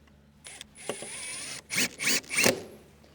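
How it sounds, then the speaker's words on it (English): Screws are driven into a window header during a window installation, short whirring bursts from a driver, several in a row, close and fairly loud. "Let me get 2 screws in."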